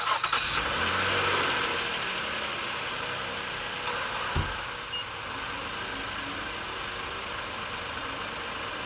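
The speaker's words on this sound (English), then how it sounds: "we're going to start the engine" A 2018 Infiniti QX60 engine starts after an oil change, a brief crank at the opening settling into a steady, fairly quiet idle that runs for several seconds with no talk.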